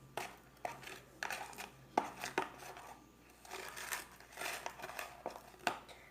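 Homemade slime squished and mixed by hand, quiet wet squelches and crinkly clicks arriving in irregular bursts, close up with no talking.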